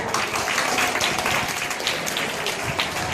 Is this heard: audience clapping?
yes